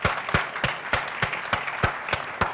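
Audience hands clapping at a recognition ceremony, a thin steady patter broken by a regular series of sharper, louder claps roughly every third of a second.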